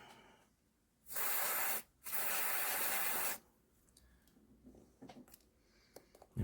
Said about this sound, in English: Give it another squirt of the cleaner, I think.